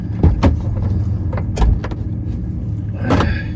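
The door of an old, decrepit truck is being opened: a short run of clunks and mechanical clicks from the latch and lock, close to the microphone, over a low background rumble.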